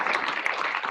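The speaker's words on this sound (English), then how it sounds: "let's give Jenna another round of applause" A university lecture audience gives a brief burst of steady, moderately loud applause after a talk, with dense clapping filling the moment and no one speaking.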